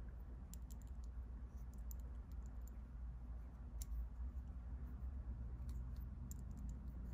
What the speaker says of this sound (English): I hear just a little bit of a clicking, but not sure which pearl is the offender.